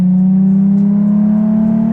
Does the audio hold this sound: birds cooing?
no